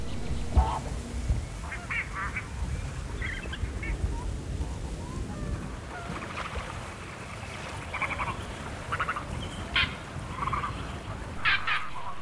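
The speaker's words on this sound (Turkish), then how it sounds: "Su kuşları günün ilk öğününü derinlerde kaygısızca aramaktadır." Water birds feeding in the Gediz Delta wetland at dawn, scattered quacks and short calls rising over a steady low background, some near and some farther off, with no talk.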